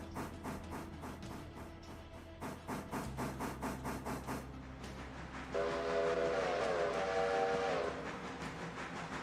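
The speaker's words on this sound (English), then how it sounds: "Gotta blow the whistle. That's the important part of driving train." In the train game Railroads Online, a steam locomotive chuffs rhythmically, then its whistle sounds in a sustained, loud blast over the running engine, with no voices.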